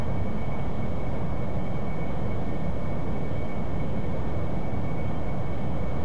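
A propeller aircraft engine drones steadily in flight in a flight game, a dense, low, continuous roar with a faint high tone running through it, unbroken and close.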